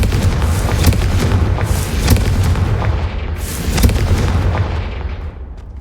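Fiery Confringo spell blasts in the Hogwarts Legacy game, a dense run of loud booming explosions with sharp bursts near one and four seconds, fading out at the end.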